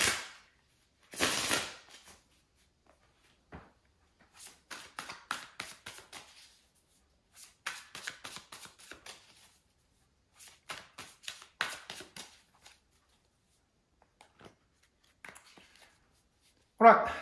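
Tarot cards being shuffled by hand in bursts of quick riffling and soft slaps, close and fairly quiet, separated by stretches of near silence.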